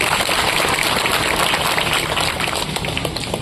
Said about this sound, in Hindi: आप अपने स्वयं के लिए ताली बजाएं